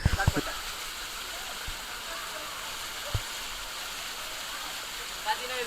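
A small stream waterfall at Tada Ubbalamadagu falls near Chennai gives a steady, moderate rush of flowing water, with a few thumps and brief knocks near the start.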